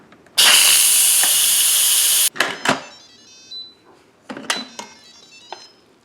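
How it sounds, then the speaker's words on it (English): A loud, steady hiss of steam bursts from a pressure cooker's release button after cooking feta pasta for about two seconds, then stops abruptly, followed by a few clicks and clatters nearby. "push this button and let all of the steam come out."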